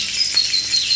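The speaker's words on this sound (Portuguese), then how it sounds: "tá fritando." Atlantic chub mackerel frying in a pan, giving a steady bright sizzle with a continuous hiss and faint crackle close by, with no talking.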